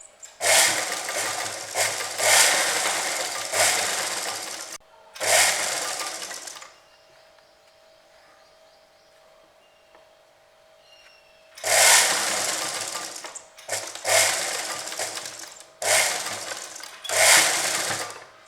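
Sewing machine stitching the fabric of a festive kurti collar in bursts of fast, steady running, with a quiet pause of several seconds in the middle before stitching resumes; no talking.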